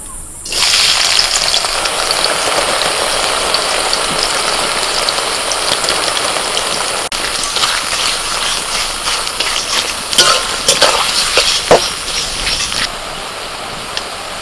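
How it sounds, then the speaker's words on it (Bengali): Sliced onions deep-fry in oil for biryani birista, a dense, loud, steady bubbling roar with occasional louder crackles and spatula scrapes toward the end. "এবার বিরিয়ানির জন্য বেরেস্তাটা ভেজে নেব।"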